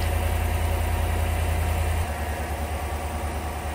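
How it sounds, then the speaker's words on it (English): A car engine idles steadily after a jump start, with a low, even rumble, its pitch shifting slightly partway through, close and fairly loud, with no voices. "I let the engine run about a minute or so."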